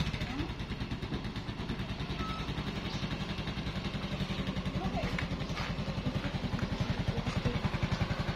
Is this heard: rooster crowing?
no